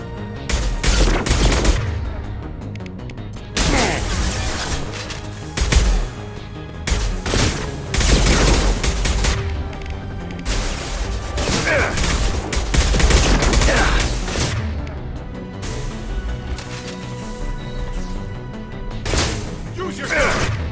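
Bursts of automatic gunfire and booms during a sci-fi video game firefight, coming in loud clustered volleys separated by brief lulls, with a voice calling out over the shooting.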